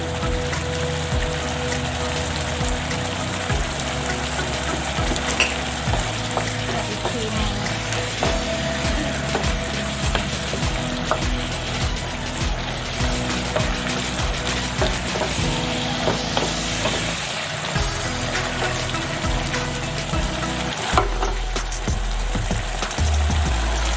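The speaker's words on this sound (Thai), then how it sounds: "เราใส่สตอไปแล้วเราไม่ต้องผัดนานนะคะ เอาแบบจุึบๆกรอบๆค่ะ" Pork belly and stink beans stir-fried in a pan, a steady dense sizzle running throughout with scattered scraping and clinking of the utensil, some faint background noise layered in.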